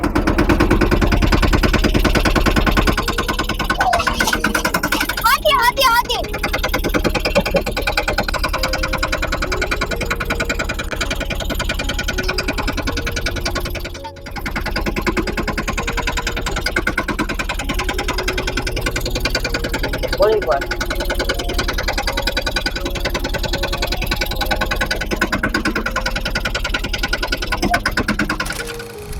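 A tractor engine runs loudly and continuously, a dense mechanical drone with a steady rattling pulse that barely changes, while a few voices briefly speak over it.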